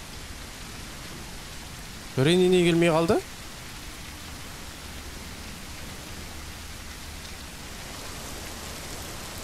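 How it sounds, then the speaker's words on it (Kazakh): Heavy rain in the Granny video game, a constant loud hiss throughout, briefly overlaid by a spoken line early on. "Қараңдаршы, дауысы қатты жаңбырдың"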